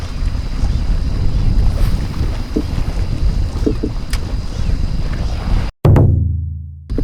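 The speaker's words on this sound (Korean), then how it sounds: "이제 바람이 많이 불어서" Strong wind buffets the microphone outdoors on a fishing boat at sea, a continuous loud roar with faint water sounds, cut off briefly near the end.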